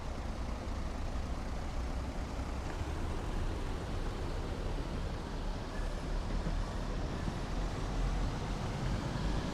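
A Class 101 diesel multiple unit pulls away at full throttle in Train Sim World 2020, giving a steady, dense engine roar and rumble that holds loud and even throughout.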